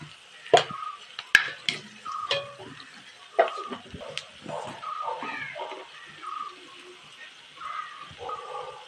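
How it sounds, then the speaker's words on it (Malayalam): Green chillies, ginger and garlic sautéing in a pan for a bean and plantain chilli curry: a faint, low sizzle broken by sharp spoon clinks and scraping stirs at uneven intervals. "പച്ചമുളകും ഇഞ്ചി വെളുത്തുള്ളിയും കൂടി നല്ലതുപോലെ വഴന്നു"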